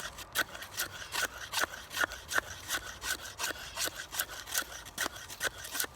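A Bear Ops auto folder knife carves fresh wood in quick, regular rasping strokes, about two per second, each a short dry scrape close to the listener at low volume.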